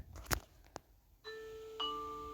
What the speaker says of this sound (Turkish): Niye kapı zilini çalıyorum ki?